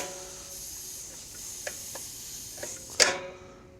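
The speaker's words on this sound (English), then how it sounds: "it's cool that it does unload at 120 pounds automatically" A gas-powered Jenny air compressor with a Honda GX140 engine unloads at 120 psi, a steady hiss under faint ticking that ends in a sharp, loud release burst.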